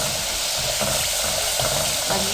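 Garlic and masala fry in a pan for a garlic curry, a continuous close hiss and sizzle with light stirring scrapes and no talking.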